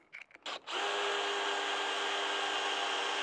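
After a few brief bumps, a power drill fitted with a countersink bit spins up and runs steadily, chamfering a hole in a wooden nunchaku with a constant close whine.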